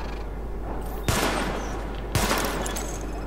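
Sidearm pistol shots fire at highlighted targets during a weapon test in The Division, in two sharp, loud bursts about a second apart over a steady low background hum.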